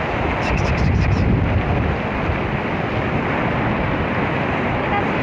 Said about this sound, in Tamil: பரவாயில்ல, காத்து இருக்குது.